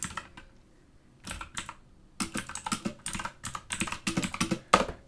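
Someone types text into a word processor on a computer keyboard. The key clicks are close and crisp, starting sparse and then building into steady, quick bursts of keystrokes, with no one speaking.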